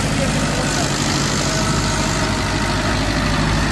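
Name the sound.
tractor engine running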